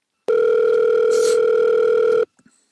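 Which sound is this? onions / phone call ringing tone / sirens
phone call ringing tone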